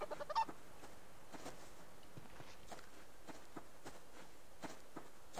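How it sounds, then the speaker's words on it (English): Chickens clucking in the survival video game Subsistence, a string of faint, quiet bird calls over soft in-game ambience and occasional footstep-like taps. "That's a chicken."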